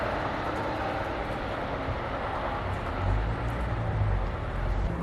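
A Class 170 diesel train, unit 170-508, departs toward Leicester, a loud, continuous rumble and roar close by that swells slightly in its low engine drone as it pulls away.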